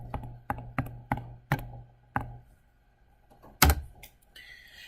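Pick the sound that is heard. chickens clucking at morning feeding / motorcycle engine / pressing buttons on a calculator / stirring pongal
pressing buttons on a calculator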